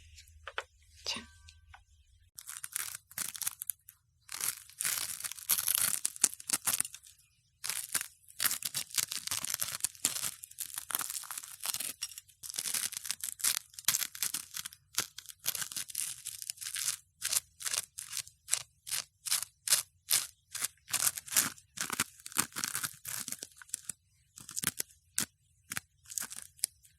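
Tonkatsu pork cutlet being handled and crunched close to a microphone, a long run of dense crisp crackles and crunchy snaps in quick irregular bursts, with brief soft speech near the start.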